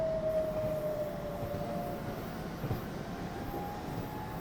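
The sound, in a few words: BR423 train departing Cologne, from video game Train Simulator 2021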